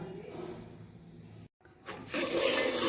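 Half a kilo of moong dal is stirred as it roasts in a pan, a soft scraping rustle that breaks off briefly and then returns as a louder, continuous gritty shuffle.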